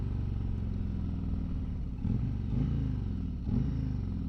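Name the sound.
Harley motorcycle engine while riding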